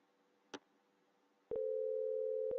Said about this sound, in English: So it's ringing.